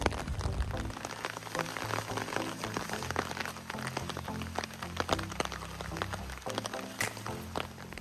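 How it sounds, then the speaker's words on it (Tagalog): Soft, steady patter of light rain on surfaces with scattered drop ticks, fairly quiet and continuous throughout, on a mountain trail with no wind. "So far okay naman, yung konting ulan lang, wala namang hangin."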